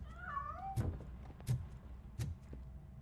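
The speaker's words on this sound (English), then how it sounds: "That cat must be hiding inside." A cat meows inside a building in the video game RoboCop: Rogue City, one drawn-out call followed by a few short, soft thumps or steps, faint and close with no talk.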